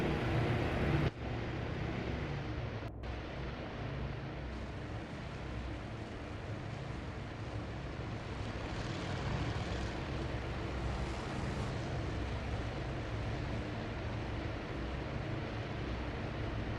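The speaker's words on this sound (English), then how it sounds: "It's fun to watch aircraft take off in this game." Aircraft taking off in the naval strategy game Task Force Admiral, a steady broadband engine roar at low level, faint and continuous with a brief dip near the start.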